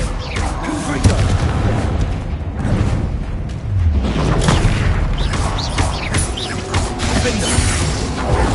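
Fiery Confringo spell blasts in the Hogwarts Legacy video game, loud dense booms and crackling impacts filling the whole stretch, layered with game combat noise and music.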